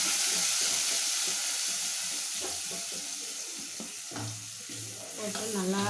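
Ground masala sizzles and spatters as it goes into a hot pan of oil with popped mustard seeds and asafoetida. The frying is steady and close, and a spoon scrapes and stirs through it.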